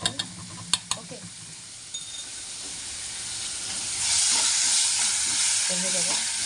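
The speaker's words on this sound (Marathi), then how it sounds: "माझं बेसन इथं मस्त मिक्स झालेलं आहे आणि पटकन मिक्स होतं" Besan (gram flour) mixture stirred in a hot pan gives a steady sizzling hiss that swells louder midway, with a few sharp utensil taps against the pan early on.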